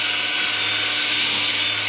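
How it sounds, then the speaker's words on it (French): Handheld power drill driving a polishing pad on car bodywork, giving a steady high-pitched whine that holds constant and close for the whole two seconds, with no talk over it. "Pas besoin du scotch, vous avez vu. Simple perceuse."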